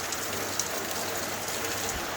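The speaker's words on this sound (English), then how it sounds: "It's actually been raining since 1 a.m. last night." Steady rain falling outdoors in Samoa, a soft continuous hiss of drops spread evenly through the whole stretch with no voices, only a couple of faint isolated ticks.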